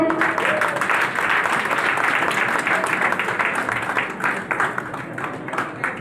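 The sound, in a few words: audience clapping loudly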